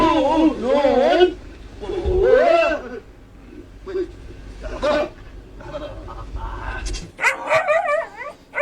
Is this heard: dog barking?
yes